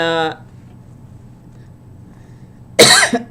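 Two short coughs, one at the very start and a harsher, louder one near the end, with a quiet pause between.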